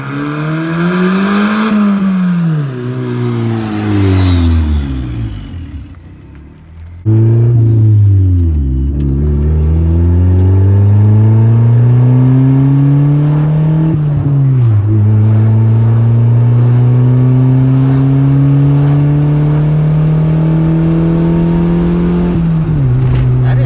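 A turbocharged Honda Civic EG hatchback with 300,000 miles revs and climbs through the gears, pitch rising and dropping with each shift, loud and close throughout, with a brief lull midway.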